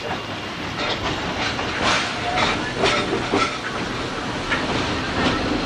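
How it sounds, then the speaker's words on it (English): A Shay steam locomotive rumbles steadily with a rhythmic clatter and hiss, loud and close, no voices, on the Georgetown Loop at Silver Plume. "Our train today is being powered by locomotive 14."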